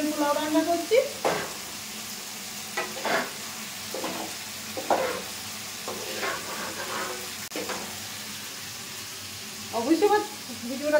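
Spices cook in a pan with a steady low sizzle, broken by occasional scrapes and knocks of stirring; a person talks over the frying at times.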